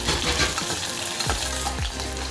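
Onions frying in oil in a pan for dal tadka, a close, steady sizzle with a few stirring scrapes, no talk.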